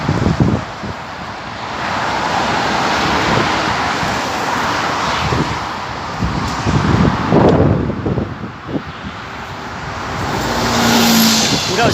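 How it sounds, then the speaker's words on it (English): Busy rush-hour motorway traffic near Chigwell, Essex, heard from a high vantage point: a continuous roar of cars passing with wind buffeting the microphone, rising swells as vehicles go by. "Noisy cars."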